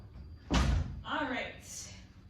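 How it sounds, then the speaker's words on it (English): A door being shut in a home, one loud, close slam, with a person speaking briefly just after. "Pardon me while I go shut my door"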